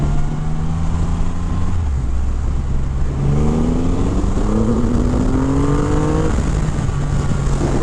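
A 2023 Triumph Rocket 3 GT, a 2500 cc cruiser motorcycle, accelerates hard on the road: a loud, close engine roar climbs through several gear changes over constant wind rush.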